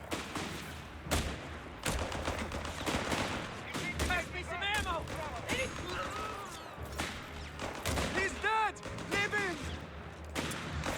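Bursts of rifle and machine-gun fire with heavier booms crackle through a Company of Heroes 3 battle with the Afrika Korps, dense and continuous, while voices chatter over the combat.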